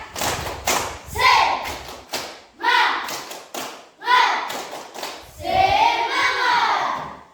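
A school class does the tepuk semangat clapping routine, a patterned sequence of loud hand claps and thumps in bursts, with children's voices chanting along between and over the claps.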